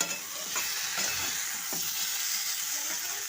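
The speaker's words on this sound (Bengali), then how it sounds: "ভালো করে এই প্রত্যেক কটা সবজি দিয়ে ভাজছি" Vegetables fry with spices in a pan for a simple home-cooked dish, a steady sizzle with bursts of hissing and occasional scraping stirs, close and continuous.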